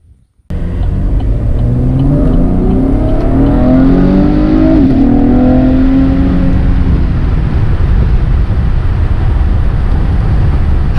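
A 6th-generation Chevrolet Camaro drives along at a steady, loud engine drone with rising and falling tones, recorded from inside the car with no talking.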